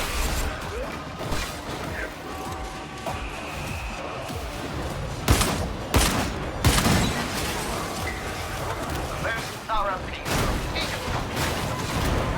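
Heavy gunfire from the player's weapon in Warhammer 40K Darktide, playing as a Skitarii, with several loud sharp bursts standing out over a dense, noisy battle din of effects, clashes and mechanical clatter, while voices chat over comms.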